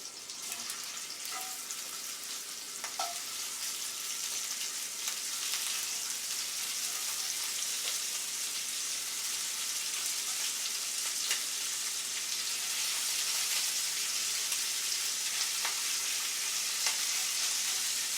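Lamb chops fry in grapeseed oil across two pans, giving a steady, dense sizzle with scattered pops and crackles that runs without pause throughout, close and even, with no talking.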